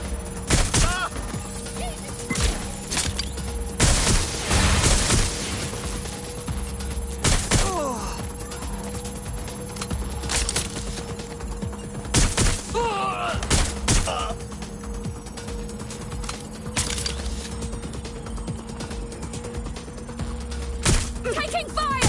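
Sporadic gunshots in Watch Dogs Legion ring out in scattered single cracks and short bursts over a steady background hum, mixed with game effects and voices.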